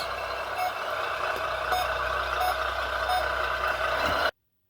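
An RC truck sound kit plays a steady electronic reversing beep with a truck engine hum underneath, repeating evenly and loudly for several seconds before cutting off abruptly.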